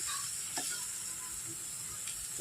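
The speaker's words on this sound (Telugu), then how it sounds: "కొంచెంసేపు వేయించుకుందాం" Ginger chicken curry with coriander fries in a pan, a steady close sizzle and hiss of hot oil going on without a break, with a few faint ticks and stirring scrapes and no voices.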